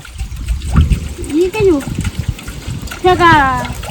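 Water is poured into a pot to cook Maggi noodles, a soft trickling splash partly masked by nearby voices talking over it.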